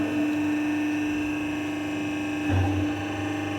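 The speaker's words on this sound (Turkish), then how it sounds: "Motoru çalıştırıyorum." A CNC press brake's motor starts up and settles into a steady, loud mechanical hum in an industrial workshop, with no talking.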